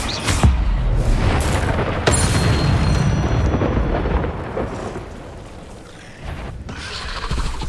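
Incendio fire spell cast in Hogwarts Legacy on PC, a loud sustained roaring blast with booming bursts, rumbling through most of the stretch, with a brief dip near the end before swelling again.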